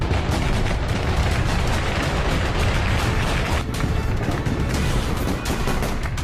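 Dense, loud bursts of gunfire crackle and boom continuously, rapid shots overlapping without pause.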